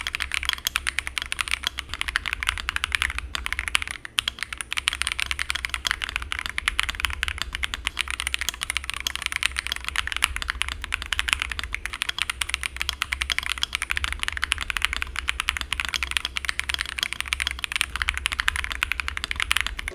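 Fast, steady typing on an Epomaker Tide75 mechanical keyboard fitted with lubed stabilizers and Geek Arc PBT keycaps, giving a dense, continuous stream of close, crisp clacky keystrokes with no talking.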